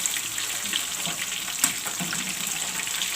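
Masala-coated fish fries in a pan after being turned, a steady close hiss of spitting oil with a faint crackle and one small knock midway.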